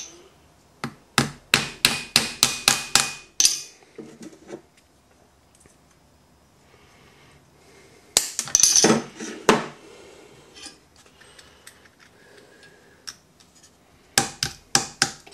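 Repeated metallic hammer blows driving a nail into wood in a workshop, in quick rhythmic bursts of about eight strikes, then a louder cluster, and a final run of strikes, close and sharp with quiet gaps between.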